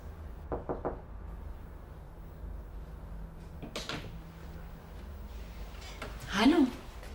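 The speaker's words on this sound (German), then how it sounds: "Hast du mein Klopfen nicht gehört?" Knocks on a door come as a quick near cluster of three, then another short burst a few seconds later, in a quiet room, followed by a voice.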